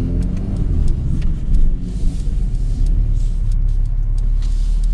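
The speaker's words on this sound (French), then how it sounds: "quand on est en Sport Plus, les valves s'ouvrent et elle fait un son qui est quand même très sympa" Mercedes-AMG A35 in Sport Plus mode with the exhaust valves open: a steady, loud, deep engine and exhaust rumble that swells briefly around the middle, heard alone without talk.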